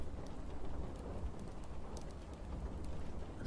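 Steady rain with soft scattered drops falls throughout as a dense, even wash, moderately loud and continuous with no voices, forming a cozy backdrop for a medieval-themed sleep story.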